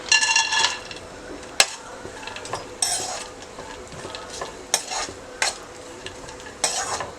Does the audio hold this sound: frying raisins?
yes